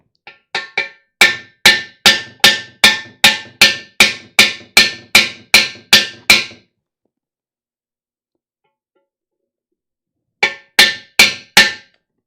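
Freeze plug hammered into a Jeep 4.0 engine block: a run of about fifteen loud, sharp metallic strikes in steady rhythm, a long silence, then four more blows close by.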